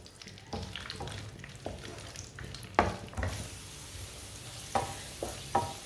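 Semolina halwa cooking in a pan over a low flame, a soft continuous sizzle with scattered spoon clinks and scrapes against the pan, close and unaccompanied by speech.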